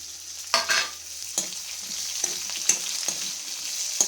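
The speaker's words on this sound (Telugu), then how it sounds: "కరివేపాకు పచ్చెనగొట్టు ఆవాలు జీలకర్ర అన్నీ వేసుకున్నామండి ఇప్పుడు ఉల్లిపాయ ముక్కలు వేసుకున్నాం" Onion pieces sizzle in a pan with curry leaves, mustard seeds and cumin, steady frying hiss broken by several scraping stirs of a spoon, close and with no talk.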